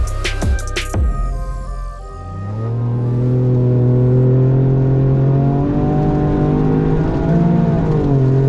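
A car driven in track mode on a race circuit, heard after a few sharp clicks as the engine revs up and holds a loud, sustained drone with rising and falling pitch, close and dominant.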